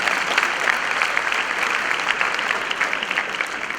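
An audience at an address by an ambassador applauds in a dense, steady burst of clapping that fills the hall for several seconds, with no talk over it.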